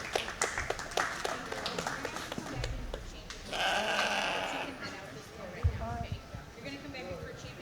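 Applause from the crowd at a county junior fair sheep show, a burst of clapping in a barn arena mixed with sheep bleating nearby and a voice over the loudspeaker.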